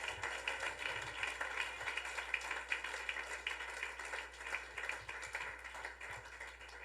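Church congregation applauding, a dense, steady patter of many hands clapping at moderate distance, sustained evenly throughout without voices standing out.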